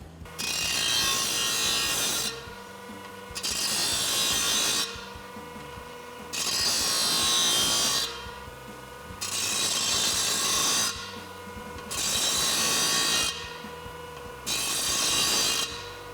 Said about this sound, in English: we're gonna come over to the grinder and clean up all the edges.